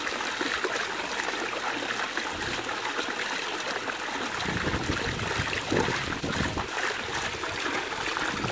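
A courtyard fountain splashes steadily, giving a continuous close wash of falling, trickling water with no break across the whole stretch.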